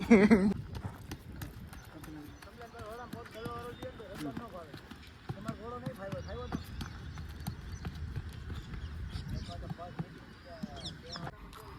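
Rapid hoof clip-clops of a mare beat steadily on hard ground, close by, with people talking over the rhythmic clatter.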